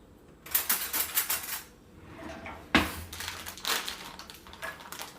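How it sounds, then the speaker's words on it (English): A whisk beats Bob's Red Mill gluten-free pancake mix in a bowl, with fast rhythmic clicking and scraping against the sides in two busy bursts and a sharp knock between them, heard up close. "Okay, so now we have to whisk in our mix."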